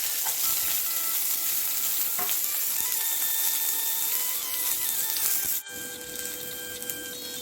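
Onions and chillies frying in hot oil with popped mustard seeds, a continuous loud close sizzle with a faint steady whine and one sharp knock partway through.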